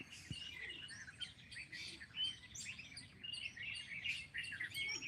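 Sparrows chirp and tweet in quick, overlapping bursts in a rural village, sounding fairly close against a quiet background.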